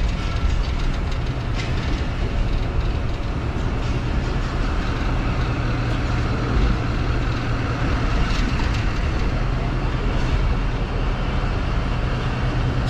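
Thal Express train pulling away from Attock City Junction, a loud continuous rumble of wheels and carriages heard from on board, steady and unbroken with no voices.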